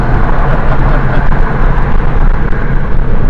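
A truck rushes past on the road, a loud, steady broadband roar with heavy low rumble that holds constant throughout, no voices over it.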